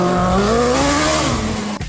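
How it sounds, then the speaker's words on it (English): Temple University student-built formula race car driving down a city street, its engine revving loudly and close with a rising, buzzy tone for about two seconds before cutting off sharply. "TFR revved up with a drive down 12th Street."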